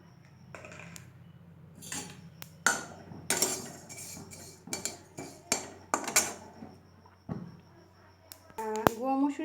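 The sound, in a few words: adding ground lentils and spices to a pan for mango pickle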